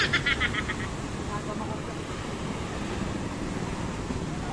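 Ocean surf washing onto a beach at La Union, a steady broadband wash with wind buffeting the microphone throughout, and people's voices faintly mixed in near the start.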